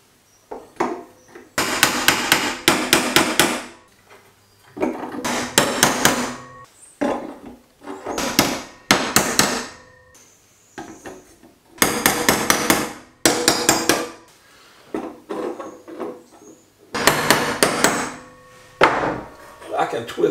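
Nails being hammered into the back of a homemade tracked vehicle in an office, heard as bursts of sharp, loud strikes in quick runs with short pauses between them.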